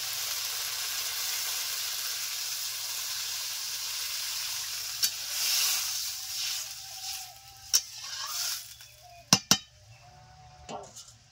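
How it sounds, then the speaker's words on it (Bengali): Oil sizzles steadily in a pan while rohu fish curry cooks, with sharp clinks of a utensil against the pan near the end and a low hum beneath. "এখন দিয়ে দেবো জল।"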